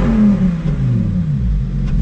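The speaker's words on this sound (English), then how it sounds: "They give it a little rev." A Lamborghini Huracan STO's V10 engine gives a short, loud rev, a brief rising roar close by.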